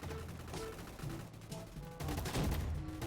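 Rapid, steady gunfire in the Roblox shooter Gunfight Arena, close and continuous throughout, swelling slightly louder in the last second.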